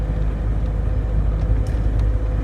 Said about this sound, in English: having the window open a little bit, it's, yes, you got the noise of the traffic